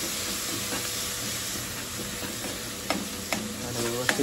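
Curd being stirred into gravy frying in a pan, a steady sizzle and hiss with scraping stir strokes that grow more distinct toward the end, close and alone without talk.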